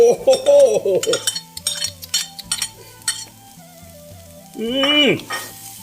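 Beef stir-fried in a pan sizzles loudly and steadily while a utensil scrapes and clinks against the metal in quick, uneven strokes, with brief tonal sounds rising over the frying near the start and the end.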